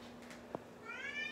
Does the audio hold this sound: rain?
no